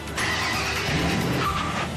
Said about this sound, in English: the kid accidentally starts the car in gear.